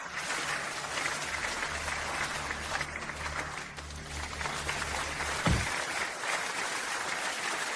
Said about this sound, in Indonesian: Mari kita sambut dengan tepuk tangan yang paling meriah.